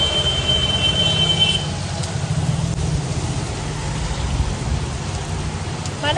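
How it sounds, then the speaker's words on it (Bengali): Heavy rain pouring down outdoors, a dense, loud, continuous hiss of drops striking surfaces, with a steady low rumble underneath and a faint high squeal early on. "বৃষ্টি প্রচন্ড জোরে নেমেছে।"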